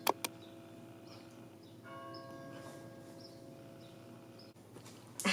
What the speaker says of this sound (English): Got some church bells.